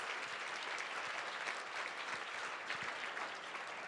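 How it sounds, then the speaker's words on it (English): Sustained audience applause fills a forum hall marking the 50th anniversary of VISTA, a dense, even wash of many hands clapping with no talk over it. "can we clap for that?"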